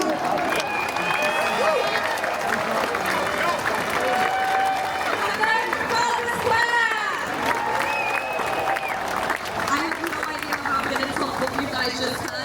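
Audience applause and cheering fill a hall after an introduction, a steady wash of clapping with scattered shouts and crowd babble running throughout at moderate loudness.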